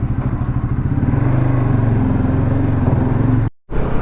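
A Bajaj-style NS200 motorcycle is being started up close and loud, its engine churning in a rapid, rhythmic pulse for a few seconds before cutting out abruptly and briefly catching again.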